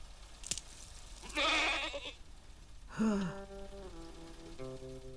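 A goat bleats in a commentary on the Doctor Who spin-off K9 episode 'A Girl's Best Friend', with two distinct wavering bleats a couple of seconds apart, the second more tonal and drawn out, over quiet background.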